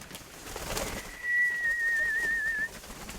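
One clear outdoor pigeon call, a sustained whistling coo held for over a second from a dove flying with a flock of pet pigeons, over faint ambient rustle.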